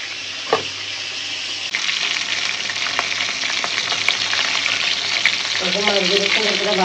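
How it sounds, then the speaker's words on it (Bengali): Rohu fish fried in plenty of hot oil in a kadai makes a dense, loud sizzle that swells after a soft opening knock, with brief clinks of a utensil and a faint voice-like murmur near the end. "মাছগুলো সুন্দর করে ভাজা হয়ে গেছে"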